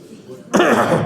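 A single sharp, close cough bursts out after a moment of quiet murmur, a harsh throaty hack lasting about half a second.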